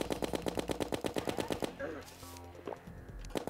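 Rapid automatic gunfire from the Mega Shark gun in the video game Terraria, a fast steady stream of close, loud shots for about a second and a half, then a pause with softer game effects and a brief burst again at the end.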